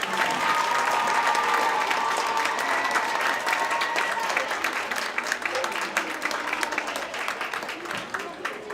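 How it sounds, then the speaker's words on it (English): A school audience at an African American History Month program claps in a sustained round of applause, loud at first and thinning slightly toward the end, with faint voices mixed in. "Let's give her another round of applause."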